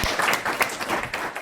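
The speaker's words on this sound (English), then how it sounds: "Please give her a good round of applause" Short burst of applause from the audience at a talk at Wharton, a brief scattering of hand claps that is moderately loud and quickly fades.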